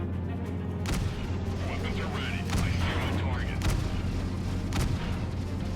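A missile explosion in the space-combat game Freelancer, heard as several sharp booming blasts at irregular intervals over a constant engine drone, with a voice talking in between.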